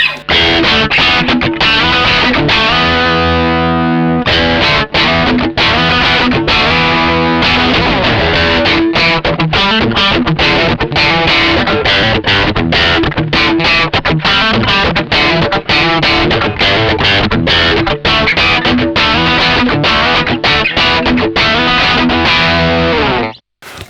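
Eastman SB55/V single-pickup electric guitar played through a distorted tone, loud and continuous with strummed chords and picked notes throughout, no talking.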